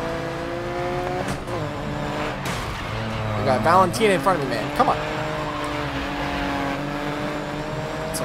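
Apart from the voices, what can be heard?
race car engines and tire squeal in video game GRID Legends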